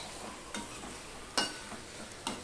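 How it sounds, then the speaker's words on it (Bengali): A vegetable dish without onion or garlic being stirred in a pan, a continuous soft sizzle with three distinct scraping strokes of the spoon against the pan, close by and with no voices. "সম্পূর্ণটা আমি মিশিয়ে দিলাম"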